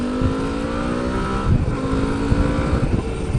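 A Suzuki V-Strom motorcycle engine revs steadily and loudly up toward 8,500 RPM, a sustained close-up drone with rising harmonics and no talk.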